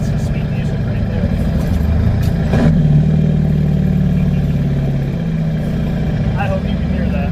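A CAT 3208T turbo diesel engine in a medium duty truck rumbling steadily close by, a low throbbing idle with a brief rev partway through, then settling back to a steady drone.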